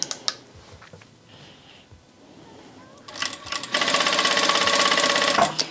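A Vevor industrial sewing machine set to speed 1,000 starts with a few soft clicks, then runs in a loud, steady, continuous whir at close range for the last couple of seconds before stopping.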